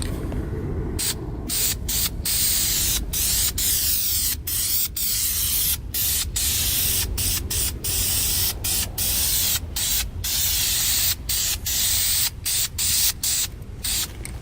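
Primer sprayed onto the rear flares and body panels of a Toyota AW11 MR2, bursts of loud close aerosol hiss repeating in short pulses with brief gaps.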